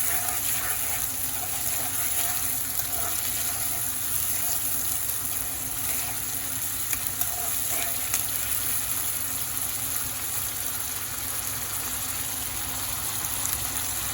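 Sliced onions fry in a pan while Bengali curry with koi fish and potatoes is cooked, a steady, loud hiss and sizzle running unbroken throughout with no speech over it.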